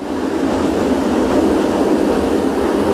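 An overnight sleeper train in southern India rumbles along in a loud, continuous roar of wheels and carriage noise heard from on board, with no talking.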